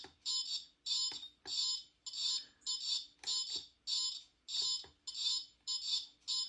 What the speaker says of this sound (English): buzzer sounds a little hurt